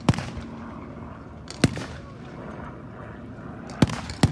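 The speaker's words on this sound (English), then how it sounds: "She's pulling round for a shot at the machine gun post." Mark IV tank at a Tankfest battle reenactment firing toward a machine gun post, heard as four sharp, loud reports spread across the span, with a low rumbling background between shots.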